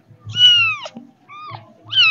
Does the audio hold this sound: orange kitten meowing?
yes